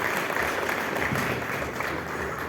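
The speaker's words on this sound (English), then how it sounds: "Welcome her on stage, please. Let's give her a thunderous round of applause." A large corporate partner-conference audience gives a steady round of applause as a guest comes on stage, dense continuous clapping from many hands, fairly loud and unbroken.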